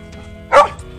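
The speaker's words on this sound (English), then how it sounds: "We also have dogs and cats out with us here by the garden." A single sharp dog bark outdoors by a garden, loud and close, with quiet background before and after.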